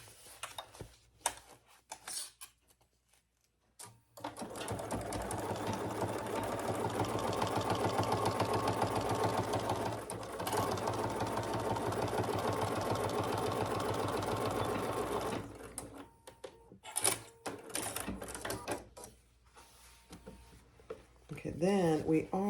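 A sewing machine runs in a long steady burst, stitching the short edge and bottom of a fabric divided basket, with brief stops and handling noises before and after; someone talks around it.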